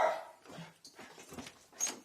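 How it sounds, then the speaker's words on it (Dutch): A dog gives several close barks and yips in short irregular bursts, with quieter whimpering sounds between them. "Goed geblaf, man."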